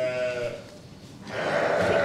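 A ewe bleats during lambing on a farm, one call up close at the start and then a louder, longer bleat near the end, with faint handling noise between and no clear talk.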